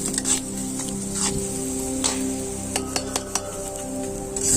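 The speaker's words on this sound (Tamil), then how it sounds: "வெங்காயம் நல்லா வதங்கணும்" Onions and curry leaves frying in a pan for a country chicken gravy, a soft steady sizzle with faint stirring clicks and scrapes running through the whole stretch.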